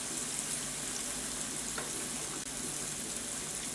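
Ripe plantains fry in hot fat with a constant, even sizzle and fine crackling, moderately close and uninterrupted, with one small click midway.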